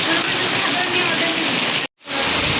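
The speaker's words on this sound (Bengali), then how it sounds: "এভাবে বৃষ্টি দেখতে কার না ভালো লাগে" Heavy rain pours down in a dense, loud, steady hiss, broken by a brief moment of near silence before it resumes.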